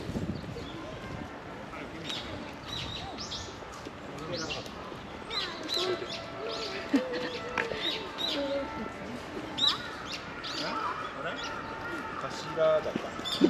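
Scattered bird chirps and calls ring out across an open park in Hikarigaoka, Japan, with people talking and faint background noise throughout.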